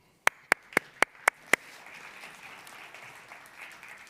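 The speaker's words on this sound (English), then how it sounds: "Please, an applause." Six loud, evenly spaced claps from one person near the microphone at a culture summit, followed by a softer spread of audience applause from farther away that carries on steadily.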